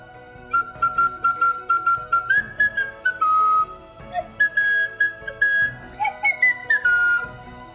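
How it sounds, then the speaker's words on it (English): A slide whistle plays the Mickey Mouse Club theme, a bright, loud melody of short gliding notes and sliding pitch bends in quick phrases, alone with no talk. "that's the best Mickey Mouse Club theme that I can do on a slide whistle right now"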